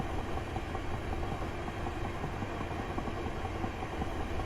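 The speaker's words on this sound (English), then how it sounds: "And let the train naturally slow down to 75 miles per hour." Class 375 electric train coasting down from speed in Train Simulator 2018 on the London Victoria to Ramsgate run, a steady broadband rumble of wheels and traction that continues evenly throughout with no talk.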